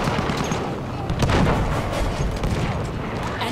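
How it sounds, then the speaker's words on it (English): Artillery and gunfire in a Battlefield 1 Rush match, booming blasts and scattered shots rolling continuously with a heavier burst near the middle, dense and fairly loud throughout. "Our artillery."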